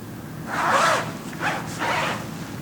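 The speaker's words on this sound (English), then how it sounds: "Unzip it down to the waist." A zipper on a protective infectious-disease gown being pulled down in three quick close strokes, a rasping zip with short pauses between pulls and no talk.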